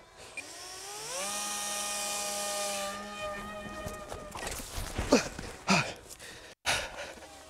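A small model helicopter's electric rotor whines steadily, its pitch climbing as it spins up, then turns into scuffing and clattering bumps before a sudden cutoff.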